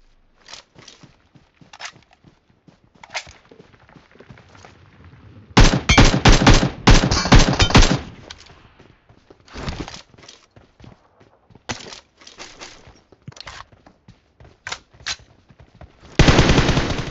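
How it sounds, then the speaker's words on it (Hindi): Automatic gunfire in the mobile shooter BGMI crackles in loud rapid bursts, some long sustained volleys and others short and clipped, with lighter footstep-like taps between them. "सामने की तरफ से एक बंदा फायर कर रहा होता है"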